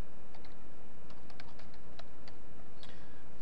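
Typing on a computer keyboard while filling in a reference entry in Microsoft Word 2010, a quick irregular run of light clicks and taps, close and fairly quiet over a steady background hiss.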